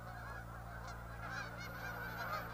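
A flock of migrating geese at Blackwater National Wildlife Refuge honks continuously in the distance over a low, steady rumble, calls overlapping without pause.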